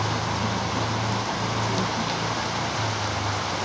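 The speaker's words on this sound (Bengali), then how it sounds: "মনে হচ্ছে যে আকাশ পুরো একদম যেন ছিদ্র ফুটো হয়ে গেছে, গলগল করে বৃষ্টি হচ্ছে।" Heavy rain pouring down outdoors near a garden, a loud, steady, dense hiss of falling water with a low rumble underneath, continuous and without talk.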